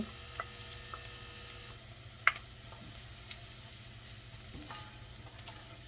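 Garlic and ginger sauté in a pan: a faint, steady sizzle over a low electrical hum, with a few soft ticks and one sharper clink as the pieces are moved around.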